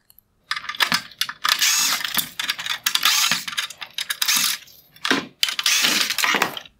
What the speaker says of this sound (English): I'm going to remove the T15 Torx screws holding on this bezel